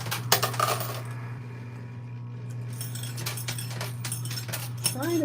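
A coin pusher arcade machine shoves its stack, sending coins dropping and clinking in scattered metallic chinks and rattles over a steady mechanical hum, close up.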